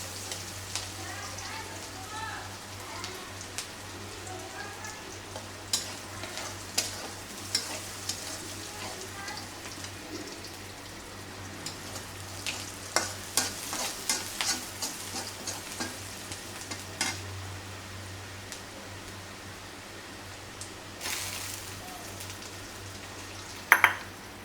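Chicken kebab dry-frying without oil in a pan gives a soft, continuous sizzle, broken by scattered scraping and stirring knocks throughout, at close range with no voices.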